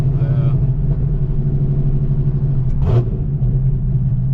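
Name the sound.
sports car engine rumbling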